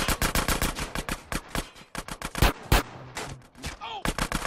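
Rapid gunfire in the video game GTA San Andreas Definitive Edition during a Grove Street versus Ballas gang fight: sharp automatic bursts crack close and loud in quick volleys, with excited voices shouting in between.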